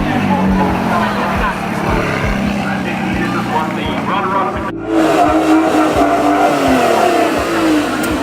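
Supercars and hypercars roll in during a parade at the Blenheim Classic and Supercar show at Blenheim Palace, a steady loud engine drone with revving rising and falling close by, joined by a brief burst of talk.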